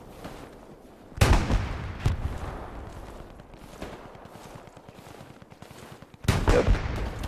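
Gunfire in an open-map shooter video game, sharp loud shots at about 1.2, 2.1 and 6.3 seconds, with fainter scattered distant shots between and a sustained burst near the end.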